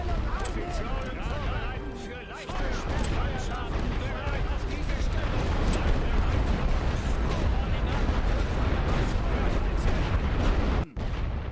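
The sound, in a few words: artillery gunfire in a WWI video game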